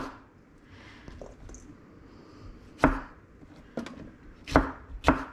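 Red hot peppers sliced with a knife on a cutting board, several sharp, close chops spaced irregularly over a faint background.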